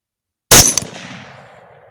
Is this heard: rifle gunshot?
yes